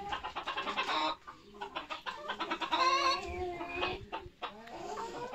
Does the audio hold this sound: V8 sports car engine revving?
no